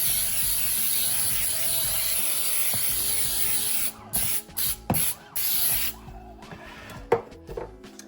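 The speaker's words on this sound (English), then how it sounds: "I'm still going to spray the pan with pan baking spray so I can make sure I get the sides." Pan baking spray hisses into a cake pan in a long continuous burst, then several short spurts, followed by faint clicks and handling noises near the end.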